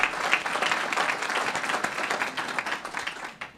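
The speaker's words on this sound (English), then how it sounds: "please give a big round of applause" Audience applause at a Boston Police National Night Out luncheon honoring police captains and officers, a crowd's brisk clapping sustained at moderate volume before tapering off.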